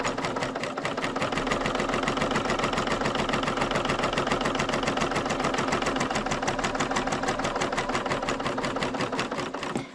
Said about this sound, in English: So here's my knife engaged, and I'm just sewing along the edge